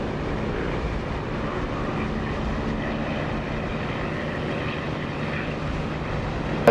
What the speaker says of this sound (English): Just listen to that engine.